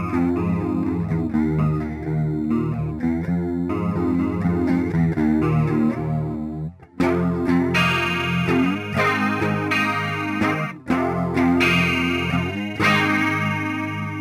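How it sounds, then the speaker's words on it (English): A guitar played through a 70s-style chorus effect in the Line 6 Helix Native amp-modelling plugin gives chiming, shimmering chords with a wavering modulation, continuous and loud apart from a brief gap partway through. "if we put a chorus in here and turn that on,"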